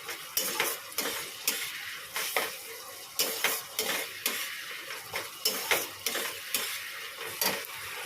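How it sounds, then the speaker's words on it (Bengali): Poppy seed spice paste (posto) being sautéed in a pan, with repeated scraping strokes of a spatula against the metal over a soft steady sizzle, close and without any voices. "মশলাটাকে একটু ভালো করে কষাবো একদম"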